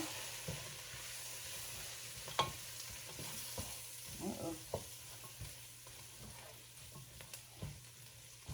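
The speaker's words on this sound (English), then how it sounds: "I'm gonna go ahead and put our flour in. I'm gonna go ahead and give that a stir." Flour is stirred into a pan for Southern-style braised oxtails, a quiet steady sizzle with soft scraping strokes and occasional light clinks of the spoon against the pan.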